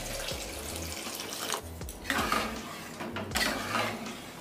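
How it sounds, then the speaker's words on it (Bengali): Hot water is poured into a pan of cooked red lentils for a masoor dal tadka, making a close, splashing pour with a couple of louder gushes and light clinks over about four seconds. "সেদ্ধ ডালটা দিয়ে দিলাম। অল্প গরম জল দিলাম,"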